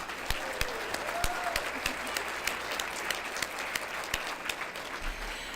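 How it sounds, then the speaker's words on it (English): Applause for an honoree at a regional Aboriginal recognition awards ceremony, a steady patter of hand claps through the room that holds evenly to the end. "Let's have a big round of applause for Adrian."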